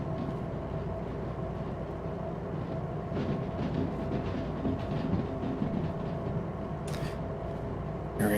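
A freight train in the Derail Valley video game rumbles steadily with a loud, continuous low drone and faint rhythmic clatter, and a brief hiss bursts near the end.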